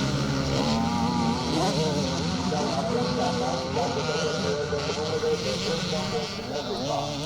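Motocross motorcycles race down from a hill section, including a 65cc Husqvarna small-wheel bike against 125s and 250 four-strokes, with continuous loud, overlapping engine drone and revving while a commentator talks over it.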